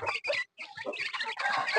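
Close, busy clucking from a chicken, a quick run of short squawky calls with a brief pause in between.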